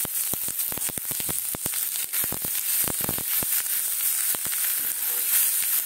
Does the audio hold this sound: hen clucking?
no